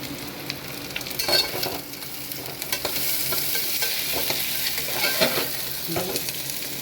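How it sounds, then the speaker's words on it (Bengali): Onion and crushed garlic frying in a little oil for a chicken curry base, a steady close sizzle with scattered stirring scrapes and spatula clicks, no voices. "অল্প তেলে রান্না করছি আমি, চিকেন একবারে অল্প তেলে"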